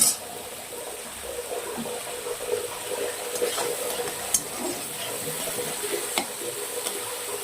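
Prawns fry in hot oil with five-spice seeds, giving a steady close sizzle broken by occasional sharp pops and spatula scrapes, with no one talking.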